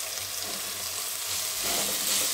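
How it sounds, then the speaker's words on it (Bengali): Mixed vegetables and beans frying in oil in a pan with a bay leaf, giving a steady close hiss and sizzle that grows slightly louder toward the end, with no talking. "এবার আমি সবজিগুলো একে একে দিয়ে দিচ্ছি, ওই তেলেই ভাজা হয়ে যাবে"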